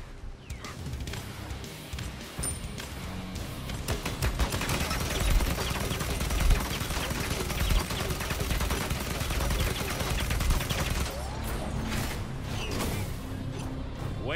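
Cannon fire from a pirate-ship setting in the Paladins video game, a dense, sustained barrage of booming shots that rolls on loudly for most of the clip and tapers near the end.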